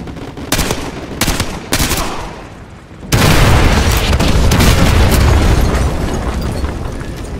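Artillery strike in Call of Duty: Modern Warfare 2 Remastered, with a few sharp, separate blasts followed by a loud, sustained barrage of booming explosions and crackling gunfire.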